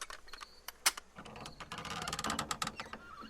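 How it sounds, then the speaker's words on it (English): A door handle is jiggled in the video game Sherlock Holmes: Crimes & Punishments, a close series of metallic rattles, clicks and creaks of the latch mechanism, uneven and persistent, with no talk. "someone's jiggling the door"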